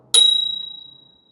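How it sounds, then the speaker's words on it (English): A single bright ding from the bell on a HiBoy S2 Max electric scooter, struck once close by, with a clear metallic ring that fades slowly over about a second. "the bell"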